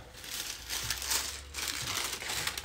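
Crinkly baking paper rustles and crumples in bursts inside a cast-iron pot, close by, with soft scraping against a hard surface and no voices.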